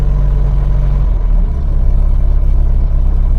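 A Triumph Herald Estate engine running, a loud, steady low rumble close by, with a faint hum in the first second before settling into an even idle drone.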